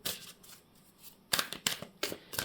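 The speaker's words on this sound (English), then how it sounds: "Let's get this other deck out here. Get some more cards for you." A deck of cards being shuffled, close and quiet, with soft rustling at first, then several quick riffling bursts in short bursts.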